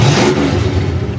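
A 1969 Ford Mustang with a 302 V8 and open headers revs hard, a loud, close, raspy engine roar that swells briefly and then settles back toward idle.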